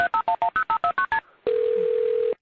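Telephone keypad dialing tones beep nine times in a quick, even sequence, then after a short gap a steady ringback tone comes through the line, clear and close.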